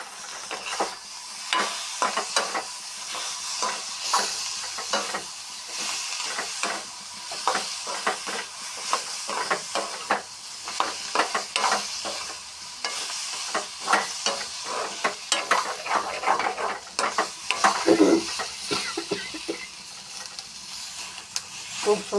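Potatoes fry in a pan, crackling and sizzling loudly with frequent stirring scrapes and spatula taps in an irregular, busy rhythm.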